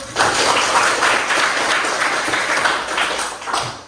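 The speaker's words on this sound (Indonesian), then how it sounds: "Oke, tepuk tangan dulu." A small group in an academic supervision coaching workshop claps together, a dense, fairly close burst of applause lasting a few seconds before tapering off.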